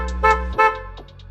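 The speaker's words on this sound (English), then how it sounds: "your car is gonna honk a couple times" A BMW F30 sedan honks twice in quick succession when triggered from its remote key fob. The short, bright horn blasts sound near and clear over a low engine-like hum, followed by a few faint tones.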